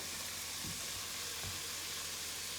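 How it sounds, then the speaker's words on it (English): Garlic fries with sausage in a pan, a soft, steady sizzle close by with a couple of faint knocks of stirring and no voices. "We will add in our garlic and cook it for about another minute"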